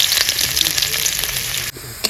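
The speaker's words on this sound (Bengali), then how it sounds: "এখন আমি আলাদা আলাদা করে পেঁয়াজ টমেটো ভেজে নিব।" Onions fry in mustard oil in a wok with a dense, bright, close sizzle that drops off sharply near the end, then a brief crackle returns.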